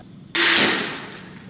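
Single sharp crack of a Steambow AR6 Stinger 2 Mini crossbow shot, loud and close, with a quick decaying twang afterward.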